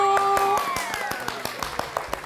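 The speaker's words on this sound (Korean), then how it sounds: "박수!" A small studio group claps for successful transfer-exam candidates on a talk show, a short run of separate hand claps, close and fairly loud, over the tail of a voice.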